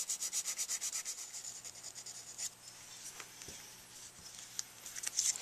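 A tenor sax mouthpiece is hand sanded with 400 grit sandpaper, giving rapid rhythmic scratchy strokes at first, then slower, irregular rubbing with a few light taps, close and fairly quiet.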